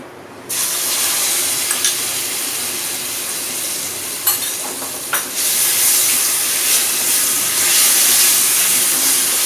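Apples with sugar cooking in a hot pan for a sweet dish: a loud, steady sizzle and hiss that starts abruptly and continues close, with brief scraping strokes of stirring and no talk.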